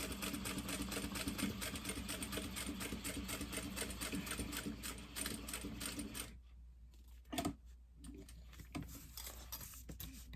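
A sewing machine stitching the fabric lining of a poop bag holder, a steady close rapid whirring run for about six seconds, then stopping, followed by brief handling clicks and short bursts.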